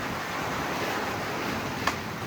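A 17-knot wind blows steadily over open water in the Gulf Stream, a broad continuous rush of wind and sea noise with one brief knock partway through.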